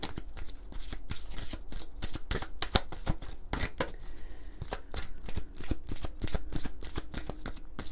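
A deck of oracle cards is shuffled continuously, giving rapid, crisp riffling slaps and flutters in close, steady bursts with no talking.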